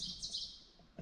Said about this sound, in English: Oh, heard the birds singing.